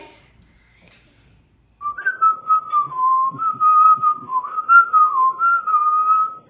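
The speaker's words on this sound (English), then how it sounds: "you're gonna learn how to whistle too" After a quiet opening, a person whistles a clear, close melody of sustained, gently wavering notes that carries on without pause to the end.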